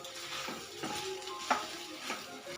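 Sabudana khichdi stirred in a hot pan with peanut powder added, giving soft scraping strokes in a steady rhythm over a continuous sizzle, close and moderately loud, with no talking.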